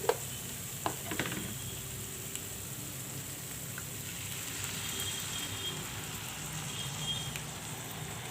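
Masala for a brinjal curry sizzles steadily in hot oil in a pan after water is added, a continuous close frying hiss with a few faint clinks near the start.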